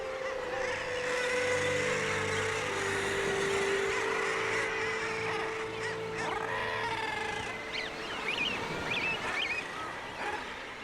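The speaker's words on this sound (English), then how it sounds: "Guillemots too crowd the ledges." Guillemots packed onto sea-battered seabird cliff ledges keep up a dense, unbroken chorus of harsh calls, steady and fairly loud throughout, with overlapping voices and no clear gaps.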